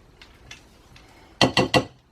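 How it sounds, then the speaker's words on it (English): A spatula scrapes around the sides of a mixing bowl of gluten-free lime cupcake batter: a few faint early scrapes, then three loud, close strokes in quick succession near the end. "we are going to just scrape around the sides of our mixing bowl"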